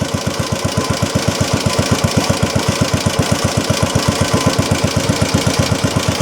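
A Briggs 5S small engine, not yet warmed up and running slower than it should, chugs close and loud in a steady, rapid, slightly uneven firing rhythm throughout, with no voices.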